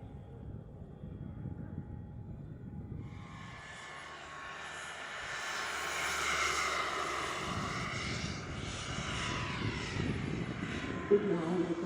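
A loud, steady rotor and engine drone from a 32-kilogram large model helicopter in flight at an RC show, with broadband whine rising midway over constant outdoor background noise.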